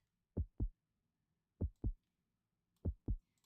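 Heartbeat sound effect from a Jackbox party video game, three evenly spaced lub-dub double thumps, low, clean and isolated over near-silence.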